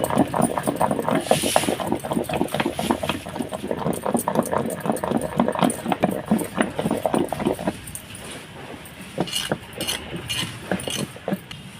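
Gongura chutney with green chilies being pounded coarsely in a stone mortar, giving a steady run of rhythmic grinding and knocking strokes that loosen into sparser, lighter strikes toward the end.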